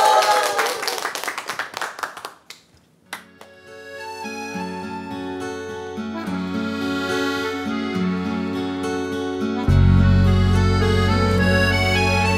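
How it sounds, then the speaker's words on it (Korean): Studio audience on a Korean TV singing-class show claps for about two and a half seconds in a dense burst of hand claps, which gives way to a trot song's instrumental introduction. "박수 주세요."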